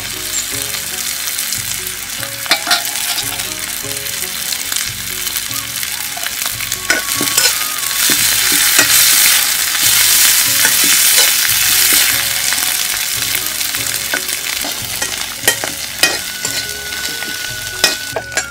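Dried kechki fish frying and being stirred in spice masala with radish, a steady loud sizzle broken by repeated scraping and clinking of the spatula against the pan, no voices.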